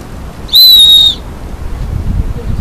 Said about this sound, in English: the whistle is really good at attracting attention